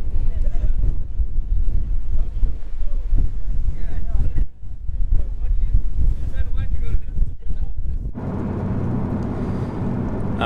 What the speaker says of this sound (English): That's super windy today.